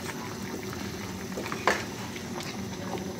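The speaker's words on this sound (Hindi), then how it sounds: "ये ऐड करने के बाद इसे मैं अच्छे से मिक्स कर लूँगी।" Mutton being mixed with spices and other ingredients in a karahi pan, giving a steady soft sizzling, bubbling hiss with a few faint scrapes and one sharper clink, close and quiet, with no talking.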